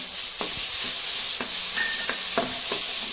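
Tomato and turmeric sizzle in a pan of dal khichdi masala, with a constant frying hiss and several rhythmic stirring scrapes of a spoon against the pan, close and without talk.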